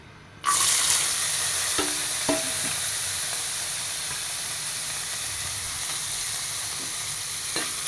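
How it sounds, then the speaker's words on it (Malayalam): Coconut pieces fry in hot fat in a pan for kadala pradhaman, a loud, steady hiss and sizzle that jumps up as they go in, with occasional scraping stirs and clinks underneath. "അതിലോട്ട് തേങ്ങാക്കൊത്തിട്ട് കൊടുക്കാം"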